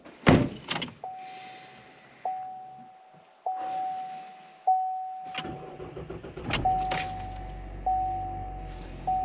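Around a new cruiser, doors thump shut over a repeating electronic ding, then the engine turns over and settles into a low idle, all heard close by.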